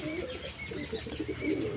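A large domestic pigeon with clipped wings flaps in a quick burst of fluttering as it is released, mixed with low cooing, close by and moderately loud.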